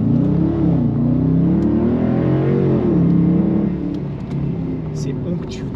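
A Dodge Challenger with a 375 hp V8 Hemi engine rumbles steadily at low revs while being driven gently through town, a loud, continuous deep drone that swells slightly midway, with people talking over it inside the cabin.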